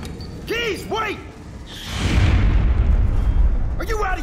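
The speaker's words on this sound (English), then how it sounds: "Grenade out!" A grenade blast in the video game Aliens: Colonial Marines, a deep rumbling explosion that swells and lingers for a couple of seconds, with shouted voices before it and again as it fades.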